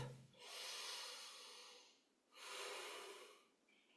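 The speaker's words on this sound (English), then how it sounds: "Maintain nasal breathing." Slow nasal breathing during a stress-relief breathwork exercise: two long, airy breaths drawn through the nose, each lasting about two seconds, close and fairly loud with a soft pause between them.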